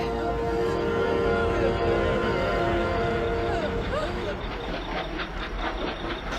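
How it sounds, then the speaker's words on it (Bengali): A phantom train in a horror setting keeps up a continuous rumbling run with steady clatter and hissing, loud and close, and a thin squealing tone drifts through the middle. "এই ট্রেনটা এখনো মরেনি, আবার চলতে শুরু করেছে।"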